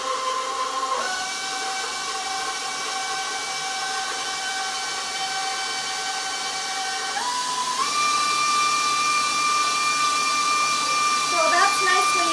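A 20-year-old KitchenAid stand mixer runs steadily with a high motor whine and mechanical hum, pitch stepping up partway through as the speed changes, alone without talk.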